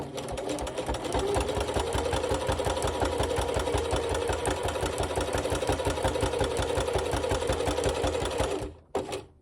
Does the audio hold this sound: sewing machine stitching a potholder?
yes